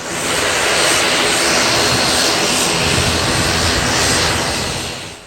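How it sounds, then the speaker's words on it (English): An Air Chathams ATR 72 turboprop airliner approaches with a loud, sustained engine roar and broad rushing noise that stays steady before easing slightly at the end. "this aircraft coming in behind us is definitely one that you're going to require a passport to get on"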